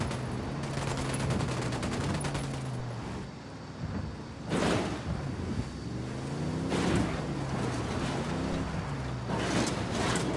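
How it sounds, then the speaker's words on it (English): Gunfire in Ghost Recon Wildlands breaks out in a few separate bursts of shots over steady wind and engine noise. A low hum runs underneath throughout. "I'm opening fire."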